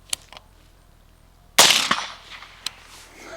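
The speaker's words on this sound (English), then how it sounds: "First shot." A single sharp, loud rifle shot from an MK18 Block II, fired close by at an outdoor range. The blast is followed by a fading echo and a few faint metallic clicks.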